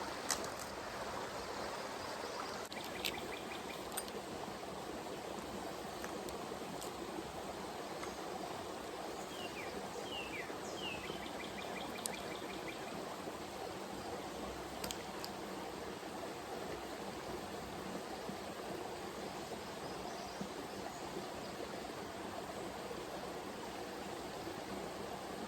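A small creek flows with a steady, faint wash of water, continuous and even, with occasional soft bird chirps in the distance.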